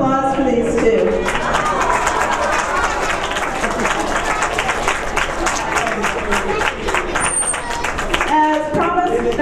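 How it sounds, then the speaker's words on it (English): An Epcot audience applauds and cheers for two performers: a sustained wash of dense clapping with scattered shouts, close and loud, and voices audible at the start and end. "A nice big smile and a nice big round of applause for these two."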